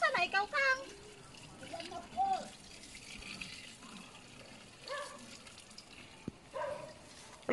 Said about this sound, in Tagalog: Lakas palang tubig, no?